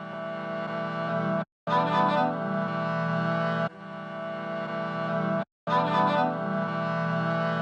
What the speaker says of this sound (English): So the first element that this whole sample started with were these string chops.